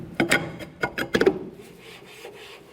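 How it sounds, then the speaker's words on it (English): Metal brake drum slid onto the rear hub of a 2004-2006 Scion xB, giving a quick series of scraping, rubbing clunks close by, then fading into quiet shuffling. "Let's get our drum on here."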